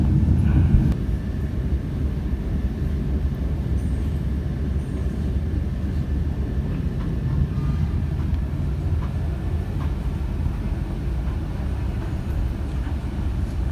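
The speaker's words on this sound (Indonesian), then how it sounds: "kereta api Madiun Jaya masuk dan berhenti di stasiun Magetan tepat waktu" Madiun Jaya train arriving and stopping at Magetan station: a continuous low rumble of rolling wagons heard from a moderate distance, steady throughout without voices.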